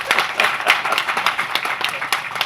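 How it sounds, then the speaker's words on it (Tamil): An audience at a speech about the uses of the palmyra palm breaks into dense, steady applause, many hands clapping close together throughout the short stretch. "இந்த சபை கைதட்டுவதை பார்த்து"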